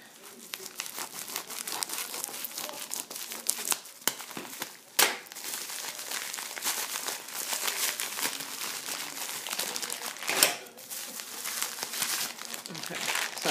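Scissors cut through a crinkly plastic package up close, with steady rustling and crackling and two sharper, louder snips partway through.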